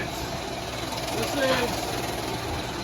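A hefty metal lathe cuts cast iron with a carbide tool, producing a steady mechanical hum and rumble with a brief, faint tonal whine in the middle, under a voice.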